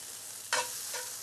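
Chopped Italian peppers and red onion hit a hot skillet with a sudden loud hiss that settles into a steady sizzle, with a second swell of frying shortly after, close and without talk.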